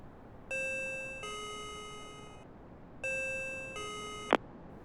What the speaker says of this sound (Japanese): 彼女の部屋の呼び鈴を押した。